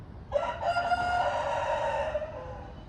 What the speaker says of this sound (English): the rooster crows because the rooster knows